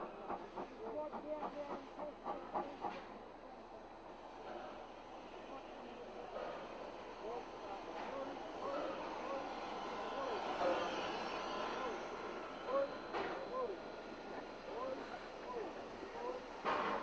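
Heritage trains running on a rainy afternoon at a busy public rail event, with a steady rolling rumble, faint hiss and clicking wheel rhythm carrying on throughout, a few brief louder bursts standing out over the continuous background noise.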